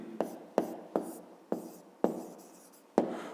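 Pen strokes writing out a fifth-grade math solution on paper, six or so distinct scratchy strokes at uneven intervals, close and clear with no speech.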